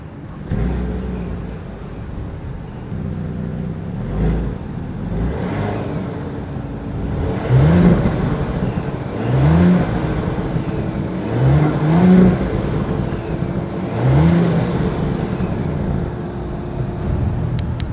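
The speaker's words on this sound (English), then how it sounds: "As always, here is that exhaust clip." A 2020 Audi Q8 engine idles low and steady, then revs up several times in short bursts, the exhaust note swelling and dropping back each time.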